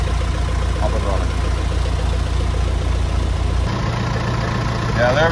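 A rebuilt 165 tractor engine idles close by with a steady, even low rumble throughout, while someone talks over it.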